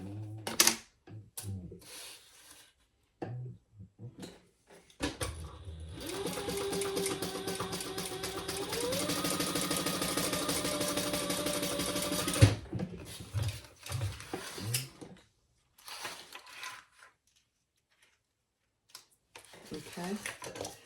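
A sewing machine stitching straight across a piece of a handmade wallet, one close, steady mechanical whirr lasting about seven seconds, with handling clicks and rustles before and after.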